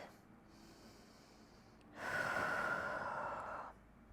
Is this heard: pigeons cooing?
no